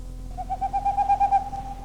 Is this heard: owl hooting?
yes